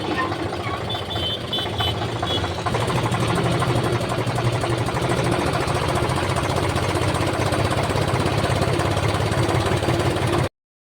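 A stopped tractor's engine idles with a steady, rough knocking chug, loud and close, running continuously before cutting off abruptly at the end.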